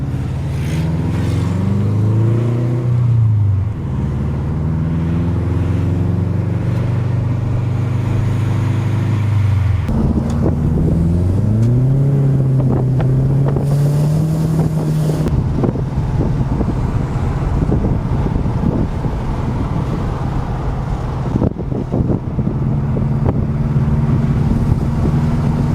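Manual-transmission car with an overheating engine and a badly worn clutch, driving with a steady loud engine drone that rises and falls through gear changes, accompanied by heavy wind rush, heard from inside the car.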